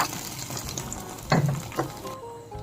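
Grated coconut, cashews and almonds frying in a pan for a milk-and-jaggery Ganesh Chaturthi sweet, a soft continuous sizzle with a few stirring scrapes, close and fairly quiet, with no talking.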